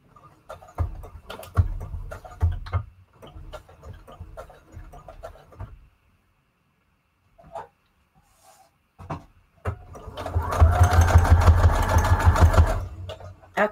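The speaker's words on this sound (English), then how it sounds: "Let me sew one more line, actually." A sewing machine stitches a single line, a few scattered clicks and handling noises, then a quiet pause, then a steady loud whirring run of rapid needle strokes for about three seconds.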